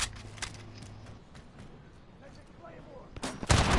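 Gunfire in Modern Warfare multiplayer: scattered distant shots over a low rumble, then a loud close burst of several rapid rounds at the very end.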